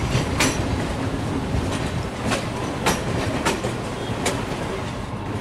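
Train moving in Trainz Simulator, a WAP7 electric locomotive on an Indian route, with a steady rumble of rail running and periodic clickety-clack wheel beats over the track, heard alone and continuous.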